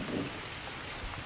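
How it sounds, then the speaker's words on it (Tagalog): Heavy rain falls outdoors in a steady, soft hiss, faint and even throughout the short stretch. "Grabe ang ulan, no?"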